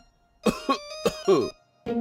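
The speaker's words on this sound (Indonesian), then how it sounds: "I am constantly coughing." Several sharp, close coughs in quick bursts, a pair, a pause, then two more and a final one, loud and dry with raspy throat texture, from a single person with no talking.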